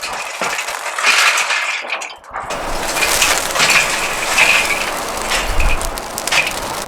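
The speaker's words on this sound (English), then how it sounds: "We're going to dump all our coals on one side." Hot charcoal coals tumble from a chimney starter onto one side of a Weber kettle grill, a close, crunchy clattering rush with a brief pause before more coals scrape and settle.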